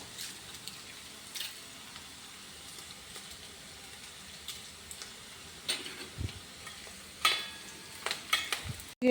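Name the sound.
batter frying in pan for kaltappa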